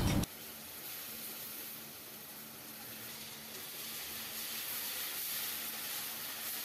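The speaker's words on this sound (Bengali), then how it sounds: "এখন শুটকি দেওয়া হলে আরো ভালো করে কষিয়ে নিচ্ছি" Spices and dried fish (shutki) frying in a pan for a data shak bhorta, a dense continuous hiss after a brief louder burst at the start, steady and close without speech.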